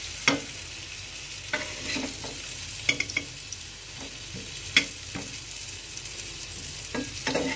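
Ash gourd fries with onion and chili in a pan, keeping up a steady close sizzle broken by sharp clacks of a stirring spatula at irregular intervals, with no one talking.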